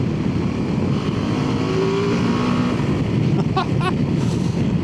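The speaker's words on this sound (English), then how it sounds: "Oh, mid-corner this bike feels absolutely fantastic. That engine just wants to fire you out of corners." A 2025 Ducati Multistrada V2 motorcycle engine drones steadily while being ridden through corners on flat countryside roads, close and loud with heavy wind rush and a few short higher tonal blips near the end.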